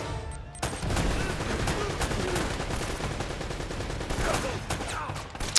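Shotgun blasts and heavy gunfire roar from the video game Uncharted: Drake's Fortune, a dense, loud, continuous barrage of overlapping shots with sharper reports near the end.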